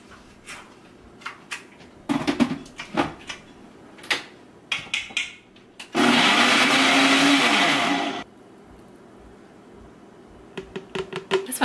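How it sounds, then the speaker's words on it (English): A blender whirs loudly for about two seconds, blending bananas, almond milk and peanut butter, its steady roar bracketed by scattered clicks and knocks before and after. "Blend it up."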